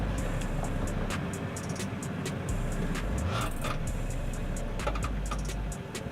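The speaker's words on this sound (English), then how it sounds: "Throttling smoothly, and Prado is gently crawling up and again fails" A Toyota Prado mid-size SUV engine rumbles low and steady under gentle throttle while crawling uphill on an off-road obstacle, with scattered clicks and knocks from the vehicle.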